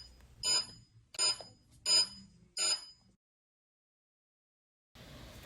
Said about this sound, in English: Listen to the beeps and vibrations carefully.